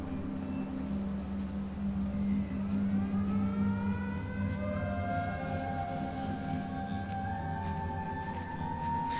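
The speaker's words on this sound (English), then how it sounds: "that's apparently what we had to wait for, was the sound of sirens" Several sirens in the video game Everybody's Gone to the Rapture rise and wail together, their pitches climbing and overlapping over a steady low rumble, continuous and fairly loud.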